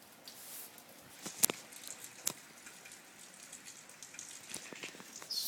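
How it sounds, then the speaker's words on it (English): Heavy rain pours outside on a cold day, a steady faint hiss with scattered sharper drops and taps striking a surface. "Oh my god, it's just pouring outside."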